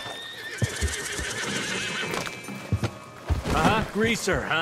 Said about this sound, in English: My favorite horse.